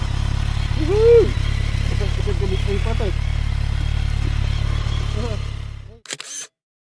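A BMW motorcycle engine drones with a steady low rumble under wind and a voice while riding on a road trip, then cuts off abruptly and a few clicks follow.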